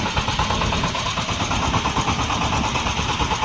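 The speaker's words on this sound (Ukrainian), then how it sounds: "Тракторець одноциліндровий, задньопривідний." A single-cylinder rear-wheel-drive Shifeng 24 mini tractor engine runs steadily and loudly with a continuous chugging rumble, no voices heard.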